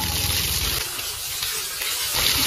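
Water gushes and splashes continuously during a cold-water bath, a broad steady rushing pour at close range that thins briefly in the middle before surging again, with no voices.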